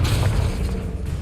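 A blasting curse explodes in a wizard video game: a dense, rumbling boom that fills the whole moment with heavy low-end force and no pause.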